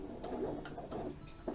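A sewing machine stitching slowly and quietly for a single fold welt pocket, with a soft, steady mechanical hum and light rhythmic ticks of the needle, close and without talk.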